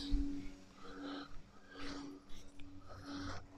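Cattle in a livestock barn give several faint, short coughs and snorts at irregular intervals over a low background hum.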